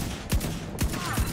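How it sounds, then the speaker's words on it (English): Three loud sniper rifle shots in the video game The Division 2, each a sharp crack with a deep boom, fired at a steady, unhurried pace with brief gaps between them. "I love that sniper rifle."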